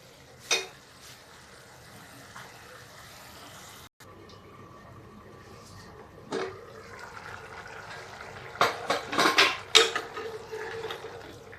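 Cooked cauliflower being stirred into masala frying in a pan: a quiet sizzle with scattered spoon scrapes and clinks that grow busier toward the end.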